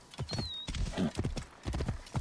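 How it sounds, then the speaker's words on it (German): Horse hooves clip-clop in a steady rhythmic gait in the video game Assassin's Creed Origins, close and distinct, with a brief whistle-like tone near the start. "Nehmen wir mal mein Pferd."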